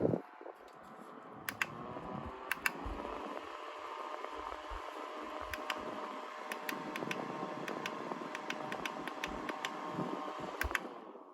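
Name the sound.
USB rechargeable fan running on new li-ion battery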